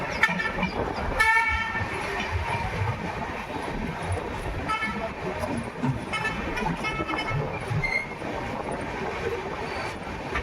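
The 22977 Jaipur Jodhpur High Court SF Express pulls out of Degana junction with a continuous rumble of wheels on rails, punctuated by a short horn blast early and longer horn tones later.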